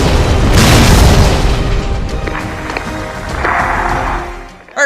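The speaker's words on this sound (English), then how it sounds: "Artillery!" Artillery explosion: a loud, deep boom opens and rolls out into a long rumbling decay, with a fainter secondary blast midway and a sharp thump at the very end.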